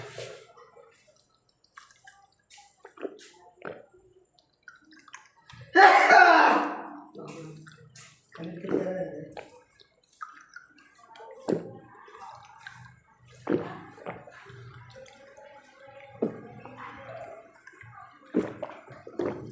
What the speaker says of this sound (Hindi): थोड़ा पानी पी लेते हैं